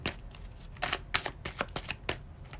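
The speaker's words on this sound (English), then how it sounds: "I may have to just go ahead and pull a card." Oracle cards are shuffled for a card reading, a series of quick riffling bursts close to the microphone in a quiet room.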